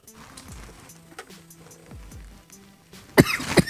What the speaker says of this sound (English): Excuse me. Excuse my cough.